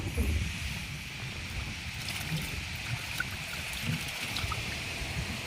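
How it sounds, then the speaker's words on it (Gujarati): Steady rushing water pours into a pool, a continuous broadband flow with faint splashing, heard close and fairly loud throughout. "હવે આમાં અમે પાણી ભરીએ છીએ"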